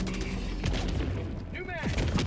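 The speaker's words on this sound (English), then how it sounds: "Hostile inbound. Open fire." Dense, continuous gunfire and booming explosions from the Helldivers 2 video game fill the scene. Heavy rumbling bursts overlap with a voice speaking and some mechanical whines throughout.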